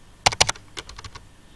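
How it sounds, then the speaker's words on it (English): Typing on a computer keyboard: a quick burst of three sharp, close keystrokes followed by a run of softer, evenly spaced clicks. "And then I'm going to type also the author by Mrs. Lee."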